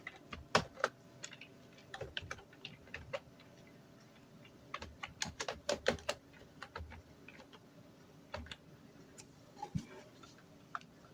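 Keys on a computer keyboard clatter as Urdu text is typed in Adobe Illustrator. The close, crisp taps come in irregular bursts with short pauses between them, and no one speaks.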